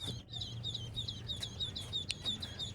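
Four young ducks, freshly bought, call steadily in a run of high, thin, rapid peeps, close by and continuous, with no talking.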